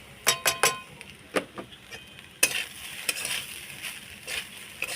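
Sugar gets stirred into vegetable fried rice in a frying pan: sharp spatula clinks and taps against the pan, quick at first and then spaced out, over a soft sizzle, close by and with no voices.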